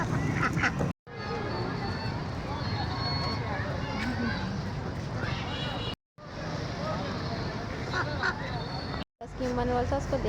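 A crowd of ducks quack and honk close by at a park as people toss them popcorn, the calls continuous and overlapping with voices talking throughout and a few brief cuts to silence.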